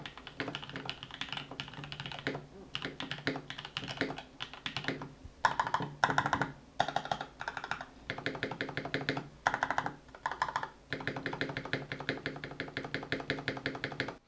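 Bursts of fast typing ring out close up on a custom Freebird 60 mechanical keyboard with lubed Novelty Cream switches and PBT keycaps, giving dense clacky keystrokes in runs broken by short pauses.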